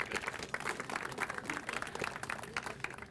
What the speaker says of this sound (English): Let's give ourselves a round of applause again.